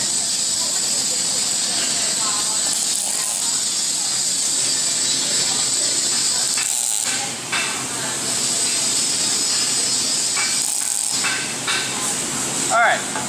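A welding machine tacks a steel piece together with loud, crackling, hissing bursts that run almost without a break, with a few short pauses between tacks.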